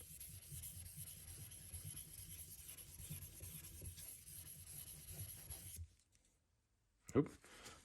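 A single-bevel wedge knife is drawn across a sharpening stone, producing a steady, soft rasping rub that continues for several seconds, then stops abruptly into near silence before a brief louder knock.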